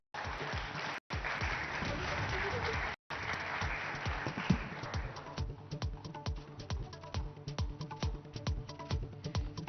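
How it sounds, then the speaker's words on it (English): An audience at a summit applauds a speaker, a dense wash of clapping broken by two brief dropouts, then thinning into scattered individual claps as a voice or music continues underneath. "Ladies and gentlemen, please give a round of applause to Gauramg Shah."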